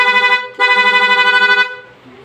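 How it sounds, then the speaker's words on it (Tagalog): Loud aftermarket horn on a Honda PCX 160 scooter, two close blasts, a short one and then a longer one lasting about a second, ringing with a bright buzzy tone and cut off abruptly. "Loud horn with combo lights."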